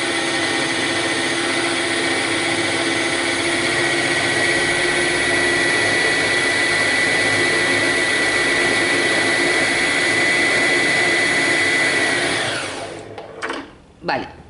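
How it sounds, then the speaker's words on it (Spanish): A Singer Promise 1409 sewing machine winds a thread bobbin with a loud, steady high-pitched motor whir that runs unbroken for about twelve seconds, then winds down and stops, followed by a couple of small clicks. "¿Veis cómo se va formando la canilla?"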